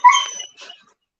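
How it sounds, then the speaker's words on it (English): A puppy gives a single sharp, high yip-like bark followed by a softer second yelp, close by and alone, then silence. "Is that your puppy?"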